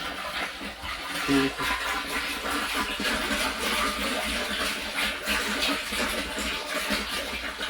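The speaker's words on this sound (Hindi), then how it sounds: "और आप देखो पानी का रफ्तार, पानी का रफ्तार देखो क्या है, कितना तेज आ रहा है पानी।" Water gushes hard and steadily from a newly installed water pump motor, a loud continuous rushing splash close by with faint talk in the background.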